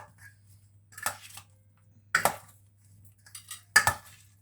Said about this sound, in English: So give it a good mix.